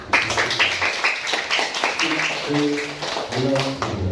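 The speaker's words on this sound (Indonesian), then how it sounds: "coba kita tepuk tangan dulu buat kita semua" Elementary school pupils in a Palembang classroom clap their hands together in a brief, scattered burst, followed by children's voices chattering over the end.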